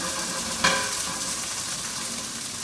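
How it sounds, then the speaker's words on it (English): Pancakes fry in a hot pan with a steady, even sizzle that holds throughout, and one brief scrape or tap sounds near the start. "Ah, love a good sizzle."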